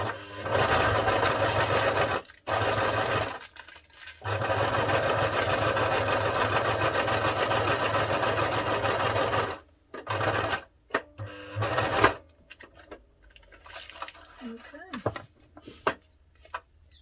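Sewing machine stitching down the side of a fabric concertina-style bag tag, long loud runs of rapid motor whirring with short pauses, then quieter handling sounds and bits of talk at the end.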